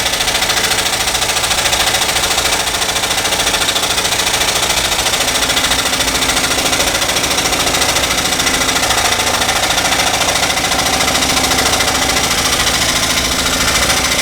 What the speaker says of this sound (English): I can cut any way I want with a spiral blade.